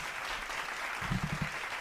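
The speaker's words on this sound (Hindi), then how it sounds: "आइए हम ताली बजाकर उनको स्वागत" A church congregation at a Hindi-language Sunday service claps to welcome a visiting worship leader, a steady dense patter of many hands, with faint low murmuring in the second half.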